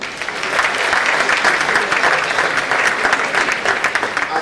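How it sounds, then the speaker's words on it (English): Sustained audience applause for a professor at an academic event on Nigerian public corruption, a dense, steady wash of clapping hands lasting the whole stretch at even loudness with no talk over it. "I think that should receive applause"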